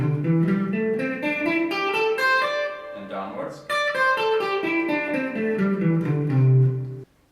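Electric guitar runs through a pentatonic scale pattern, clean sustained single notes stepping up and then back down in an even rhythm, close and clear, with a brief spoken word in the middle.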